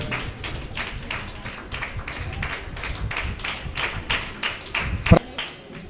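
A crowd claps by hand in a church during a gathering where clothes go to the elderly and prizes to children, a steady close run of overlapping claps that gets louder toward the end, with one sharp knock near the close.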